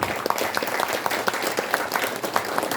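An audience at a ceremony honoring independence activists claps loudly for an activist's daughter, with sustained, dense applause and sharp individual claps standing out.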